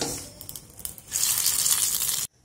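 Curry leaves frying crisp in hot oil, crackling softly at first and then breaking into a loud, steady sizzle close by that cuts off abruptly at the end.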